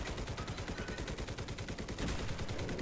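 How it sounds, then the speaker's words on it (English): A 40mm cannon in the Enlisted video game fires in a rapid, steady stream of thudding rounds, a dense rhythmic pounding of gunfire that grows a little louder near the end. "this is like a 40mm cannon, so that's what's surprising"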